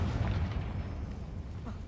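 Confringo blasting spell going off in Hogwarts Legacy: a heavy, rumbling blast that fills the whole short stretch with dense, booming noise and slowly fades, loud and close.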